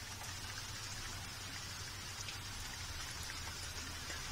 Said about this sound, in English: Just a second, it will generate the rain.